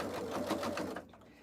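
Sewing machine stitching a fabric soup bowl cozy, a steady close rapid whir for about a second before it stops, with faint talk beneath.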